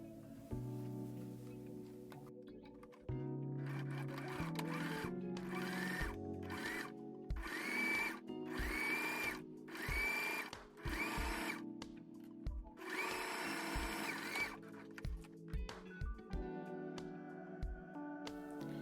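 Sewing machine topstitching the folded, pressed front pocket of a fabric tablet pouch, running in repeated short bursts of fast stitching separated by brief pauses, close and fairly loud.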